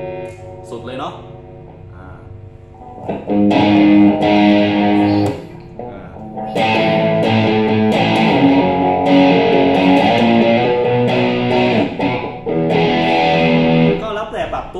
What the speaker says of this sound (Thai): อเคเดี๋ยวลองเสียงแตกบ้างครับ